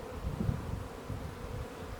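A steady low hum of honeybees fills the air at a healthy hive colony, a dense continuous buzz at moderate level with no voices.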